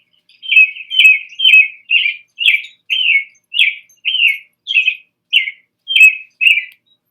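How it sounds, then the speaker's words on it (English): American robin singing a bright series of about a dozen clear, evenly spaced chirping phrases, loud and close, with silence between notes and no other sounds. "Red-breasted robin is our state bird."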